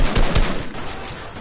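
Rapid gunfire in quick bursts rattles over dense, noisy background clatter, loud and close, with the bursts thinning out toward the end.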